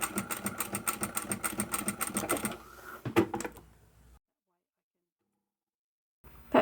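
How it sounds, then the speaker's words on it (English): A sewing machine stitches vinyl up to a metal clip, running in a steady rapid chatter for about three seconds, then a few separate thuds and a stop, followed by silence and a brief bump at the end. "I'm sewing up to that metal clip again,"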